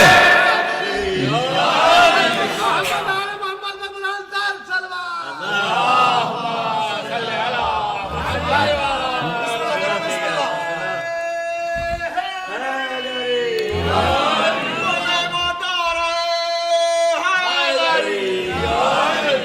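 A crowd at a religious majlis chanting slogans in unison, with many voices rising together in repeated loud, drawn-out calls that fill the room, pausing briefly between bursts.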